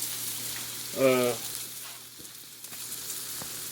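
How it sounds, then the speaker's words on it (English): Food sizzles and bubbles in a pan at a low, steady level, with a brief voiced sound rising over it once. "this right here is now boiling"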